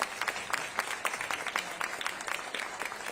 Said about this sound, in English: Yes, let's give a round of applause.